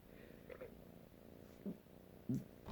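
A domestic cat purring softly and steadily at close range, faint and low with a few small bumps and rustles, no talking.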